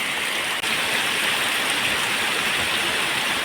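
Rain falling steadily, an even, dense hiss with no break apart from one tiny dip, close and fairly loud with nothing else over it.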